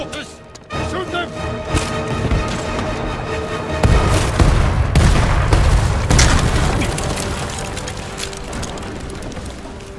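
Booming explosions and gunfire from the video game Ghost of Tsushima, heavy rumbling blasts building midway, with voices talking over the battle.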